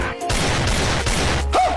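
A dense burst of gunfire, loud and close, with rapid shots blurring into a continuous crackling roar before tailing off.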